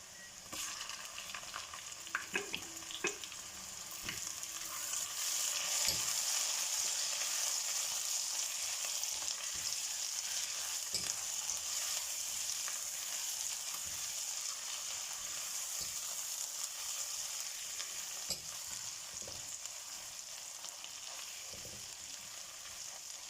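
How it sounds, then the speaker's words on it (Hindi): Ginger, garlic and green chilli paste fries with golden onions in a pan for karahi qeema. A long, even sizzle runs throughout, broken by occasional clicks and scrapes of stirring. "जिंजर गार्लिक पेस्ट डाल के मैंने 1-2 मिनट के लिए फ्राई किया"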